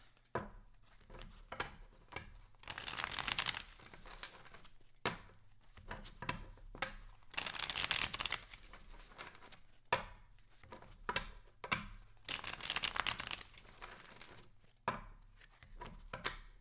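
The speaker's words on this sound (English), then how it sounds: "I got to shuffle a few more of these." Tarot cards shuffled by hand in repeated rustling, riffling bursts with short pauses between, close and fairly clear, over a low steady hum.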